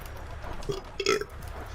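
One short, low burp sounds close and fairly quiet in a room, with a small grunt just before it.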